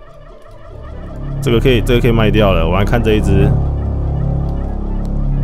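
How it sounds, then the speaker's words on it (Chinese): A turkey gobbles loudly for about two seconds in the Roblox game Toilet Tower Defense, set against steady game background noise, and someone speaks briefly over it. "一样是会有火鸡叫，但是会增加那个电视的那个音效啊"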